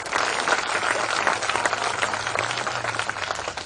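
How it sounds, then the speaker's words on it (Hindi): Dense, steady audience applause fills the hall at a Hindi kavi sammelan poetry recital, a sustained wash of many hands clapping together with no speech over it. "जरा अपने हाथों की तालियों में जोर बढ़ाइए"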